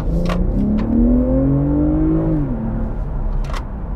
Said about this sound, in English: Let's get a little first acceleration run.